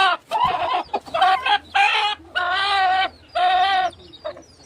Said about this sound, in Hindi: देखो कुकुड़ा केमती कुड़कुड़ी मारी जाए